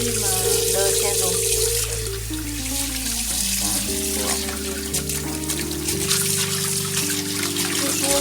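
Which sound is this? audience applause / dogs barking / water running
water running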